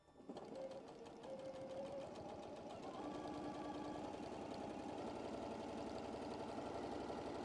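A sewing machine runs steadily, stitching dark fabric with light thread: a continuous, fast mechanical whir and rapid needle clatter, close and fairly loud, with no talk.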